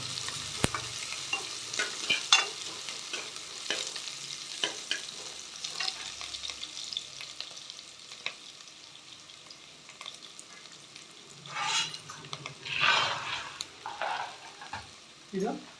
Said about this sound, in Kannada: ಇದು ಸ್ವಲ್ಪ ಫ್ರೈ ಆಗಬೇಕು ಈರುಳ್ಳಿ